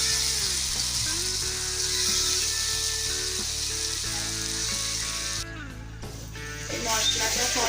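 Spice masala with salt and cumin powder sautés in a pan with a continuous, even sizzle and occasional stirring, under steady tonal background music.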